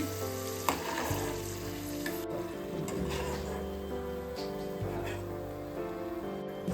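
Mustard seeds and lentils crackle and sizzle in hot oil for a tempering, a dense steady fry heard up close with faint stirring and no talking.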